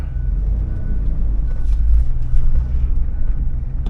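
A 2007 Hummer H2 with a 6.0L LQ4 V8 drives along, a loud close low-pitched engine and road rumble that holds steady and swells slightly midway.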